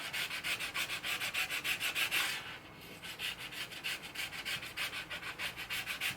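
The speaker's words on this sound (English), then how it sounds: "holding the thing almost flat, you use the burr as a scraper." A steel scraper's burr, held almost flat, scrapes glue off the top of an Egmond archtop guitar during repair, making steady rhythmic rasping strokes, close and fairly loud, with a brief pause partway through.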